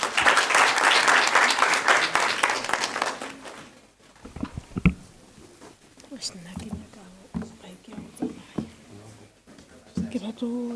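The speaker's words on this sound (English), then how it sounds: "Let's give her a round of applause" A campus audience applauds loudly for about four seconds, then the clapping fades and gives way to quiet room noise with shuffling, handling sounds and soft talking.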